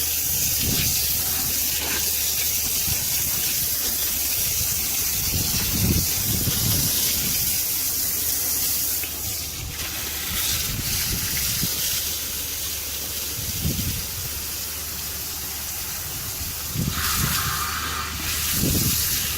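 Vinegar gushes out of a residential water heater's drain into a backed-up drain, a steady loud hiss and rush of liquid running continuously, with brief louder surges.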